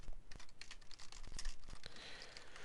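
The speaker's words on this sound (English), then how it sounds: "So I'm just typing that out so you can see it." Fingers type on a computer keyboard, a quiet, uneven run of quick clicking keystrokes with no voices.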